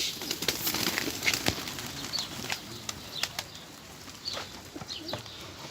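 Wings flap in quick, rustling bursts, several close flurries spaced apart over soft background noise, like pigeons taking off and landing.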